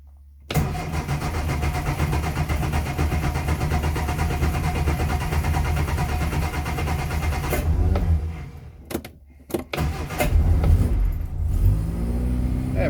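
An old Citroën 2CV engine cranks in a long, steady grinding burst, sputters and falters, then catches and rumbles to life.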